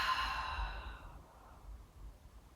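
A long, breathy exhale during a core exercise, loud at first and then trailing off into quiet breath noise. It is heard alone, with no speech over it.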